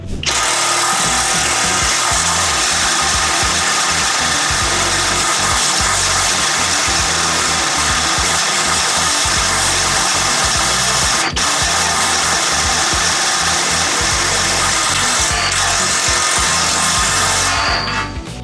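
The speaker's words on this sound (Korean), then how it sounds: "임팩트 드릴을 가지고 한번 테스트를 해볼게요" A 12V cordless impact drill drives an HPT step drill bit through material, a loud continuous grinding buzz sustained for the whole stretch, with brief rattling spikes near the middle and end, no talking.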